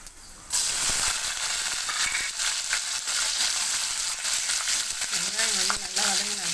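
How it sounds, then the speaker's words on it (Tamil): Onions frying in oil in a pan for an arai keerai dish, a loud, dense crackling sizzle that starts abruptly and runs steadily, with scattered clicks and a faint voice near the end. "அடுத்து வெங்காயம்,"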